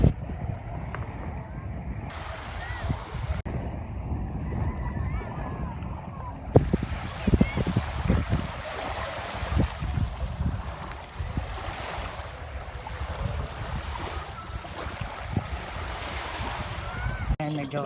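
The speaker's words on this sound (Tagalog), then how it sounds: "Ayan po yung lugar nila dito at ito po ang dagat." Sea waves and wind along the shore at La Union, Tabatbaran, Mindanao: a constant roaring wash of surf with gusty wind buffeting the microphone, loud and continuous, with occasional heavier bumps and a few muffled voices in the mix.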